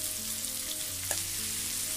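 Green chillies fry in a hot pan of oil for a restaurant-style veg Hyderabadi biryani, giving a steady close sizzle with a faint stirring knock partway through and no talking.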